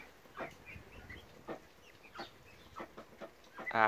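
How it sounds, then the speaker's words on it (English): Chickens clucking in a summer coop housing young birds raised with chicks, soft scattered clucks and chirps at a modest distance over quiet background. "because they were brought up with chicks, they're staying with their chickie friends"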